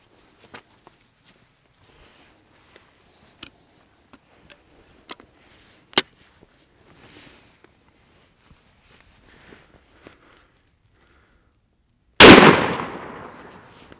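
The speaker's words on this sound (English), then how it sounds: "fire this wax slug into the drywall" A wax slug is fired into drywall: one sharp, loud impact bursts out near the end, with a decaying crackling tail, after a stretch of faint scattered ticks and clicks.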